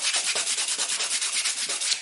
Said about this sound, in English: I've been doing sanding all this stuff first with 180 wet and dry